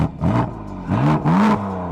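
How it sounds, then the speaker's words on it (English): Three quick revs in a row from a BMW M4 engine with a stock exhaust, each a rising roar that drops back to a steady idle, close and loud. "Go ahead and rev it up."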